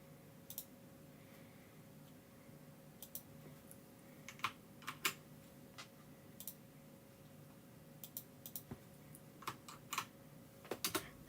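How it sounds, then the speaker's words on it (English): Typing on a computer keyboard, entering a channel link during a livestream: scattered bursts of quiet, close key clicks in irregular runs over a low steady hum, with no talking. "I have to remember to leave the U out when I'm typing your channel in, Dee."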